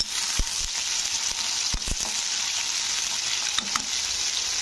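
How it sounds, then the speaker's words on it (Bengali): Slices of bitter gourd (karela) fry in oil, giving an even, close sizzling hiss broken by a few sharp knocks and scrapes from stirring, with no speech. "অল্প অল্প করে উচ্ছেগুলোকে দিয়ে ভাজতে হবে।"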